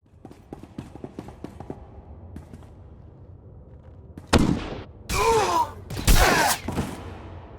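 Troops open fire in a video game: after quiet ambient ticks, a loud burst of gunfire erupts, followed by two more sustained volleys, close and intense.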